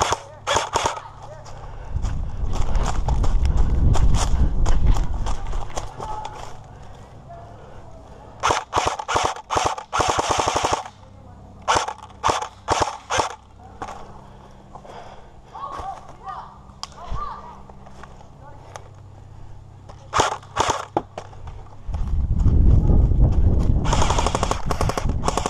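Airsoft guns fire in rapid, close bursts during a forest skirmish game, volleys of sharp snapping shots broken by short pauses, with players' voices calling out between them.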